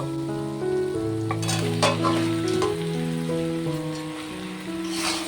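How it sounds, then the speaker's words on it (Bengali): Boiled mutton fries in spice masala with oil in a pan, a continuous sizzle with some stirring clatter, under steady musical tones. "মাটনটাকে দিয়ে আমি সুন্দর করে কষিয়ে নেব।"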